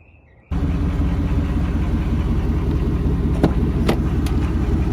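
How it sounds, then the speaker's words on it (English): Ford F-150 pickup fitted with a VMP supercharger and Borla Attack exhaust, idling with a loud, steady, close engine drone, a few brief high whine spikes near the end, no voices. "It does have a VMP supercharger and a Borla attack exhaust, which is super loud."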